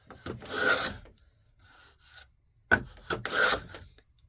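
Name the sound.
miter plane planing pine wood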